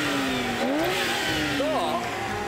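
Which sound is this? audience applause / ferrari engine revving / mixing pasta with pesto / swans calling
ferrari engine revving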